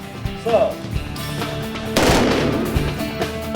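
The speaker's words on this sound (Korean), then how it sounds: "특수임무대의 중요한 훈련 중 하나인 사격 훈련인데요" Live gunfire rings out at a special forces counter-terror shooting drill by a five-person team, with sharp reports and a louder burst about two seconds in, over background noise.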